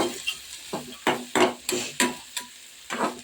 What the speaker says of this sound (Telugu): ఉల్లిపాయలు పచ్చిమిరకాయలు వేసేసుకోండి. మంచిగా బాగా ఫ్రై అవ్వాలి.